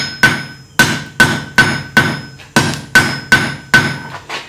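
Hammer blows on 3/8 square steel stock at the top of an anvil while forging a leaf, nine sharp ringing strikes in a steady rhythm, close and loud with a metallic ping on each hit.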